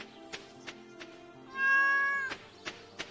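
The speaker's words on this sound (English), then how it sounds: "I love my kitty." A cat gives one clear, drawn-out meow, loud and close, between soft rhythmic tapping and a low background hum.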